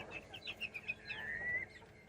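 Silkie hens in a backyard coop cluck softly in quick, uneven bursts, followed by a longer drawn-out call, fairly close but faint.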